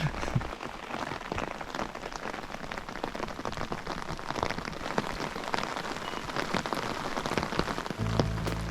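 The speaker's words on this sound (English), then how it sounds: "It's pouring now" Heavy rain pours down in a Skagit Valley rainforest, a dense, continuous patter and hiss of drops striking surfaces close by, steady throughout with a brief low thump near the end.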